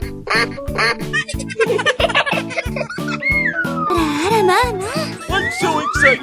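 A cartoon duck quacks in a 3D animal slide video game, rapid bouncy quacks mixed with jingling game music and giggly child-like voices, followed by rising and falling whistle-like sweeps.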